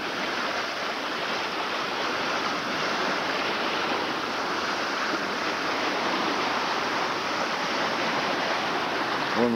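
Waves on the shore of Lake Baikal wash in as a continuous broadband rush, steady and fairly loud, with wind noise mixed in and no voices.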